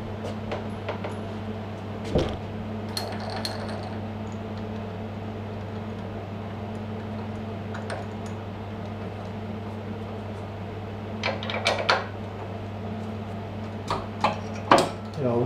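A milling machine with an end mill works on a seized traction motor coupling. A steady motor drone hums throughout, with occasional knocks and metallic clunks, growing busier toward the end.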